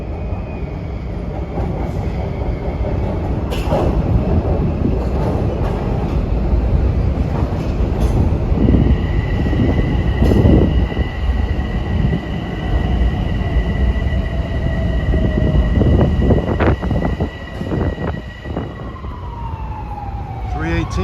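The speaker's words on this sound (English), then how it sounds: "here comes train 558, a local from North White Plains." A Metro-North commuter train rumbles loudly past for a long stretch, with rattling wheels, a blaring horn and squealing tones toward the end.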